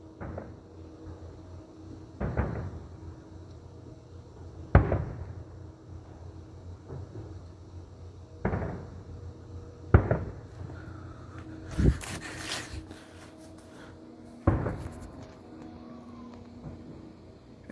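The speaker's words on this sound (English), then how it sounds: "Here come all the fireworks." Fireworks going off outside, heard from indoors through a window: a series of about seven loud booming bursts spaced a few seconds apart, some followed by crackling, over a low background hum.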